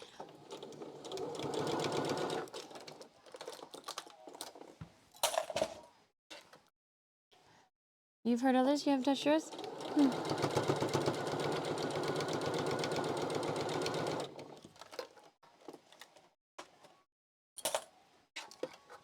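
A sewing machine stitches fabric face masks in a home setting, running in a long steady burst of rapid mechanical chatter after brief talk, with short stop-start runs around it.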